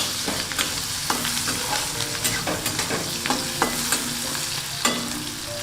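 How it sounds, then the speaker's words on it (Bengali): Vegetables stir-fried in a hot pan for a winter fried rice, a steady close sizzle broken by repeated scraping, clattering strokes of a utensil against the pan at irregular intervals, with no talk. "তো সবজিগুলো তো সমস্ত ভাজা হয়ে গেল"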